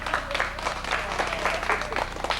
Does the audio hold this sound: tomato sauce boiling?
no